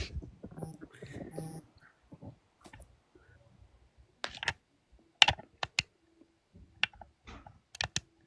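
Clicky computer keyboard typing comes in scattered bursts of sharp keystrokes during an online gaming chat, close and fairly loud, with a voice talking briefly at the start.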